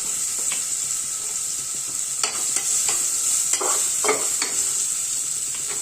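Onion goes into a sizzling tempering of crushed garlic, ginger, green chili and turmeric for a diet khichdi, giving a steady close-up fry hiss broken by several scraping stirs of a spoon.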